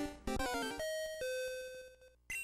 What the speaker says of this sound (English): Ding dong, time's up, the Safari game is over.